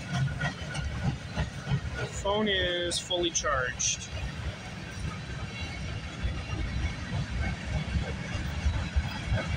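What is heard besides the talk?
freight train locomotive passing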